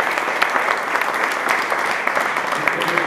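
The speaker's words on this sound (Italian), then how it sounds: "a cui va il nostro applauso" Audience applause fills the Church of San Domenico in Ischia, a dense, steady patter of many hands clapping throughout, with a faint voice beneath it.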